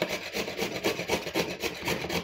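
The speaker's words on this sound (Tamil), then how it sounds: "இப்போ நம்ம துருவல் வச்சு துருவிக்கலாம்." Beetroot is grated on a hand grater in quick, even rasping strokes, about four per second, close and moderately loud with nothing else heard.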